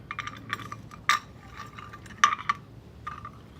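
A UV bulb slides back into a glass sleeve on a GrowoniX UV unit, giving small glassy clinks and scrapes, two sharper taps among quieter rubbing, close and faint.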